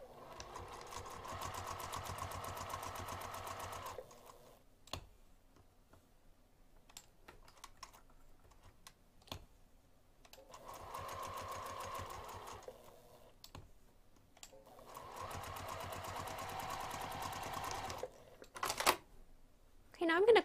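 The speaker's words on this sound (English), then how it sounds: "we're going to sew both of the long edges and 1 short end using 1/4 inch seam allowance" A sewing machine stitches the long edges of fabric with a 1/4 inch seam allowance at a 2.5 mm stitch length. It runs close by in three longer bursts with short stops and brief taps between them.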